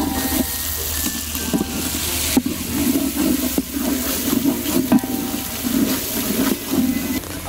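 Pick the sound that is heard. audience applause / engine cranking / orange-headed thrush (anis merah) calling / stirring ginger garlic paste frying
stirring ginger garlic paste frying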